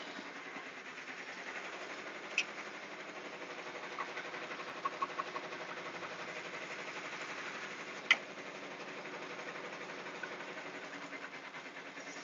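Sewing machine running steadily at an even drone, with a couple of sharp clicks and a brief cluster of ticks partway through, no talking.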